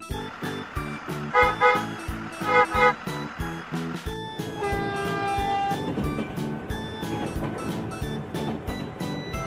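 A train rolls past with a steady, rhythmic clatter of wheels, fairly loud and close, while sustained horn-like tones ring over the pulsing beat.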